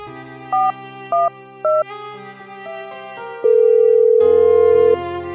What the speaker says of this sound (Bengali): আমি ওকে আর একবার কল করে দেখছি।